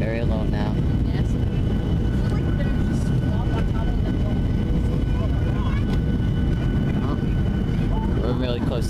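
Steady loud cabin roar of a WestJet Boeing 737-700 descending low on approach to land in Barbados, constant engine and airflow noise from inside the plane, with a person talking over it.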